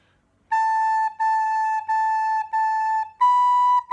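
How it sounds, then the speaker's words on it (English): A recorder plays a short phrase of six clear, sustained notes, five on one pitch and the last slightly higher, heard alone with short gaps between them. "I'm going to play bar 5 and bar 6. It's going to sound like this."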